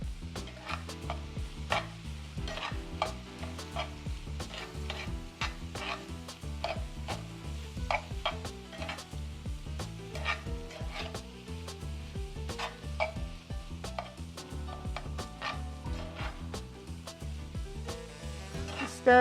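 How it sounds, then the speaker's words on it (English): Nutritional yeast and seasonings being stirred in a pan for a vegan breakfast, with a steady run of scraping, tapping utensil strokes against the pan under a constant music-like background bed. "Stir it up and make sure you have all your seasonings nice and mixed in."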